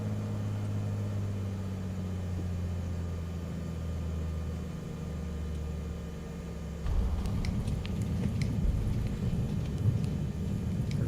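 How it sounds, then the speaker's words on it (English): A small aircraft in Microsoft Flight Simulator 2024 drones steadily on approach, then touches down abruptly on a gravel runway, switching to a loud rough rolling rumble with scattered rattles as it slows. "Hitting the gravel, and we're coming to a stop."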